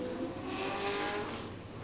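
A V8 stock race car engine at a Super Copa Telcel race in Zacatecas drones at high revs, a steady loud roar with a slight swell and fade, as if a car is passing nearby.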